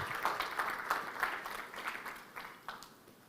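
Applause from a conference audience greeting Kenya's Deputy President at an investment conference in a large hall, a moderate, steady patter of clapping with a few louder bursts, fairly distant and unaccompanied by speech.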